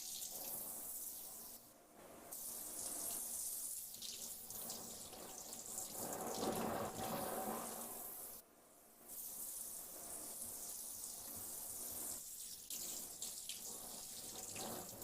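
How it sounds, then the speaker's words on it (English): A kitchen tap runs steadily into a sink as braised pork is rinsed under it, the flow close and continuous, dipping briefly twice when the stream is interrupted. "I'm going to grab it with tongs, and I'm just going to rinse it off real quick"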